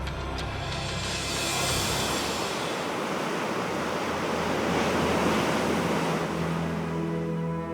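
Ocean waves and wind on the Ocean Diamond crossing the Drake Passage: a steady, loud roar of surf and rushing wind with continuous broadband noise and no clear breaks.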